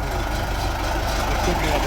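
An MTZ 82 tractor engine runs at a steady idle close by, a continuous low throbbing drone with a faint rattle from the exhaust.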